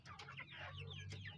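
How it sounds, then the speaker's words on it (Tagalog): Native Parawakan chicken clucking in a series of close, busy, overlapping clucks over a steady low hum, with no talk. "Yan po yung ating ibang lahi na native chicken."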